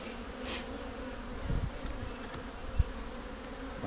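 Honeybees and drones buzz steadily during a beehive inspection, a continuous close hum with a couple of soft knocks and no talking.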